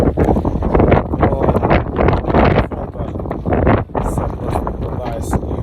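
Strong wind in Kyiv during a cold April snowfall buffets the microphone in loud, continuous gusts, with rumbling roar throughout and brief lulls between blasts.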